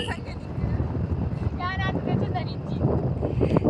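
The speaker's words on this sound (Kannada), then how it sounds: "ವೆದರ್ ತಂಪು ತಂಪಾಗಿ ಗಾಳಿ ಬೀಸ್ತಿದೆ ನೋಡಿ ಎಷ್ಟು ಎಷ್ಟರ ಮಟ್ಟಿಗೆ ಗಾಳಿ ಬೀಸ್ತಿದೆ" Cool wind blows across a hilltop, a continuous low rumbling rush of microphone buffeting, with brief higher chirps or voices faintly over it.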